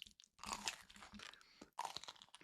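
Someone bites into a crispy Korean corn dog, producing several close, loud crunches in quick bursts, with chewing between bites and a short pause before a final crunchy flurry.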